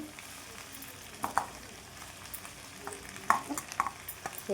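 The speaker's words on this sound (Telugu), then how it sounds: "ఇందులోని క్యాబేజీని కూడా వేసి బాగా మగ్గనిద్దాం" Cabbage sautés in a pan with green chilies and tomatoes under a soft, quiet sizzle. The spoon scrapes and clinks against the pan intermittently.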